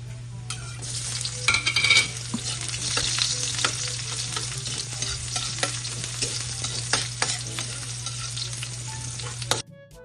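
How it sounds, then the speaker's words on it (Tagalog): Garlic and onion sauté in a hot pan as the base for ginisang repolyo (sautéed cabbage). A steady, close sizzle runs throughout with scraping stirs, then stops abruptly near the end. "Igigisa na po natin ng bawang. Tsaka po yung sibuyas."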